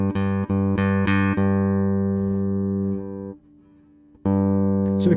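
Bass guitar played through a Caline CP-59 bass DI and distortion pedal with the treble boosted, a few sharply plucked notes ringing into a long sustained tone, then a brief quiet gap before a loud new note.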